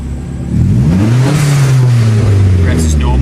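A JDM-G car with an ME221 engine management running 2-step launch control, its engine jumping into a loud, close rev that holds steady and rises slightly, with the rev-limiter stutter heard near the end.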